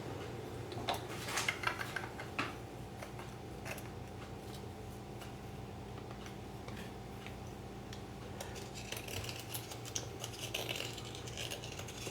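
Cutting a coin ring by hand, a soft scraping with irregular small ticks and taps of tool on metal, faint and steady throughout with no talking.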